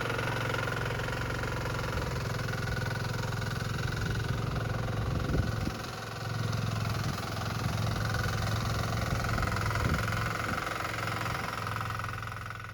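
The diesel engine of a Sharp Garuda mini weeder runs steadily at a rough, knocking idle, close and continuous, with brief dips in its rhythm and no talk.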